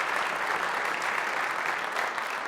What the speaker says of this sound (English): Applause filled the Russell Wanless Performance Hall